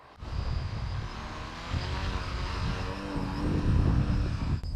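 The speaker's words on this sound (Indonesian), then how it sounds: "saya masih bisa mengendalikan pesawat ini saat berkeliling dalam mode melayang" A VTOL model aircraft hovers in wind, its electric propellers giving a steady, fairly loud whine and buzz that swells slightly near the end, with wind rumble underneath and no speech.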